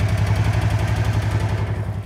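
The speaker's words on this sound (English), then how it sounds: "And now I'm gonna get the mower going" A small lawn mower engine runs near and steady, a pulsing low chug with an even rhythm that holds for a couple of seconds, with no talking.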